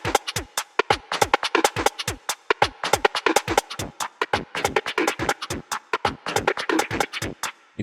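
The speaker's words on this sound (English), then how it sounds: "It's really great distortion plugin, creates this really crunchy rhythmic texture." Crunchy, rhythmic distorted texture from the Rift distortion plugin in a techno groove, fast stuttering percussive hits pulsing steadily throughout.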